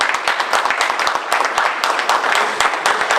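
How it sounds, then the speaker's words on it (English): A room full of people gives a high school calculus class a dense round of applause after its STEM presentation, with steady, crowded clapping throughout. "first congratulate and applaud Mr. Z and his class"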